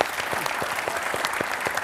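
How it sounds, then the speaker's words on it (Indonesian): Audience applause at an Indonesian talk show, dense steady clapping from a studio crowd filling the short moment at an even, moderate level. "Tepuk tangan dulu dong buat Pak Deddy Susanto."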